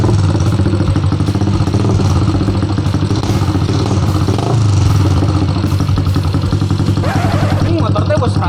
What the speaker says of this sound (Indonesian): Ah, ini rusak ya motor.